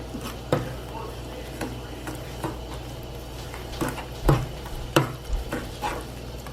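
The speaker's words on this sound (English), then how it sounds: "So this needs to be stirred constantly." A spoon scrapes and knocks steadily around a pot of fudge mixture being stirred constantly, with soft bubbling between the strokes, and voices talk over it.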